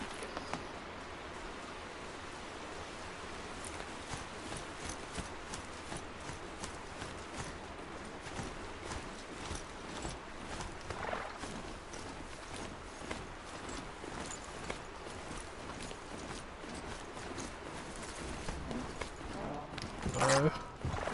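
A galloping mount in the game Horizon Zero Dawn, steady rapid hoofbeats running throughout at moderate level beneath game ambience, with a voice speaking partway through.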